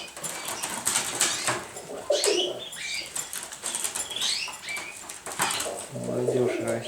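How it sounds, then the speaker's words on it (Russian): Pigeons in a loft full of young birds, with wings flapping in bursts and soft coos and calls, close by and moderately loud, alongside a human voice. "Ну, голуби, как видите, бодрые."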